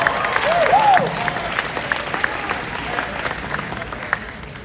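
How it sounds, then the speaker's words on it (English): Graduation audience applauding a valedictorian speech, a moderate wash of clapping that fades to a lighter patter, with brief crowd voices near the start. "that deserves an applause"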